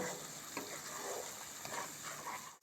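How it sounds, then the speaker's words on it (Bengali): Ground spice powders cook down with masala in oil, a faint, low sizzle with occasional stirring scrapes, ending in a brief knock. "এবার খুব ভালো করে মশলাটা এই গুঁড়ো মশলার সঙ্গে আমি কষিয়ে নেব"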